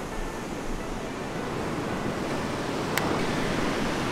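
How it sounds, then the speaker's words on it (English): Ocean waves break and wash ashore in a continuous broad roar, steady throughout with a single sharp click near the end. "And there's quite cool waves over there,"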